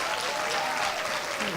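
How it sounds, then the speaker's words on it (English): An audience at a World Intellectual Property Day celebration breaks into dense, steady applause, a continuous wash of many hands clapping throughout. "Let's give her a huge round of applause."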